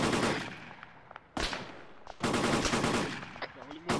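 Light machine gun fire in a military video game, several loud sustained bursts of rapid automatic shots separated by short pauses, with quiet radio-style voices in between.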